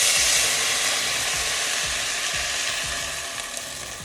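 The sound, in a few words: turkey stock poured into pot of softened vegetables, scraping the bottom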